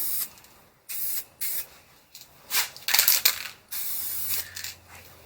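Aerosol spray can coating Volvo 740 parts with paint, several separate hissing bursts of varying length, close and fairly loud, with short pauses between passes.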